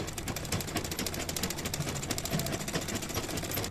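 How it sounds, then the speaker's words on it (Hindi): A sewing machine stitches fabric for a sharara, with a fast, even, continuous mechanical rattle close by and no talk. "अब हम स्टिचिंग करते हैं इसके बाद।"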